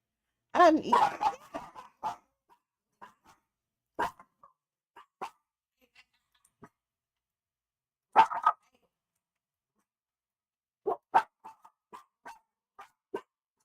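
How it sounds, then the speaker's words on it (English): Several pet dogs bark indoors in scattered bursts, with a loud cluster at the start and isolated sharp barks and yips spread through the rest, fairly near and separated by quiet gaps. "I'm sorry about the barking"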